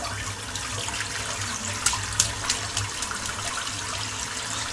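Tap water runs steadily while a soaped shaving brush is rinsed out, a continuous close splashing with a few brief louder splashes.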